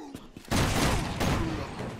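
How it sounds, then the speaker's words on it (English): A shotgun blast in Resident Evil 6 bursts in at half a second and rings on loudly amid game noise, preceded by a few faint clicks. "Thank you, shotgun."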